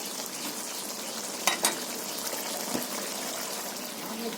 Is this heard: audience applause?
no